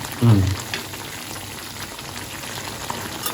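Masala curry fries on a low flame with a steady, close sizzle, and a brief thud near the start.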